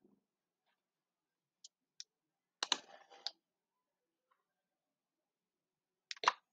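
Computer mouse clicks, a few sparse, faint taps spread across an otherwise quiet stretch, with one short rustling burst in the middle.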